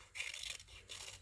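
Scissors snip through paper to clip a printed word from a magazine scrap for a collage, two short close rasping cuts, faint and alone.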